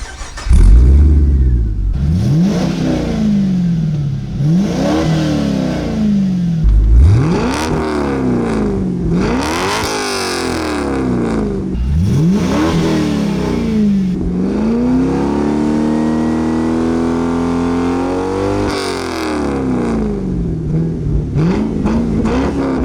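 A 2004 Holden Monaro CV8 with its 5.7 litre V8 and performance exhaust revs hard several times, loud and close, rising and falling in repeated throttle blips before a longer sustained climb, with no talking.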